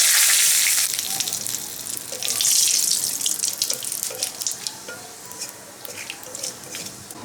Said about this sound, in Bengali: জিরা তেজপাতা ভাজা ভাজা হয়ে আসছে